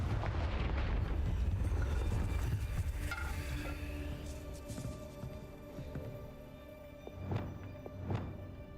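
In the Hogwarts Legacy video game, the Confringo fire spell sets off a loud rumbling blast that fades into a crackling, sizzling tail, followed by two sharper, briefer bursts near the end.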